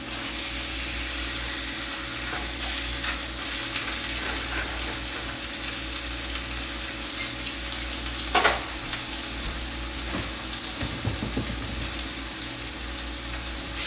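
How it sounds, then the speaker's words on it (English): Thin ribeye steaks sizzle in a hot cast iron skillet, a steady broadband hiss running throughout with a few sharper crackles and clinks near the middle and end. "So I've heated up my cast iron skillet. You can maybe hear it sizzling."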